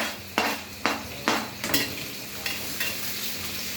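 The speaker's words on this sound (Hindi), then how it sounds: "तो हम प्याज डाल रहे हैं कि हमारा तेल गरम कुछ ज़्यादा ही हो चुका है।" Onions hit very hot oil in a kadhai with a steady, close sizzle, broken by several sharp scraping stirs and clinks of a metal spoon against the pan.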